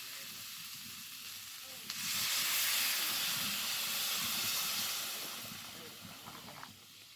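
Water poured into a pan of spicy snail curry hisses and steams loudly, a broad rushing boil-sizzle that swells after a sharp onset and slowly eases, heard close with no talk over it.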